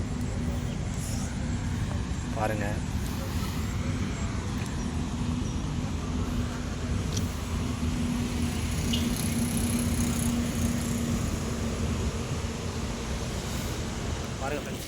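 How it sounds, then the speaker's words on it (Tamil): Heavy rain pours steadily during outdoor fishing, a dense broadband hiss that holds loud and even the whole time, while voices talk over it now and then. "செம்ம மழை பெய்யுது ஃப்ரெண்ட்ஸ்."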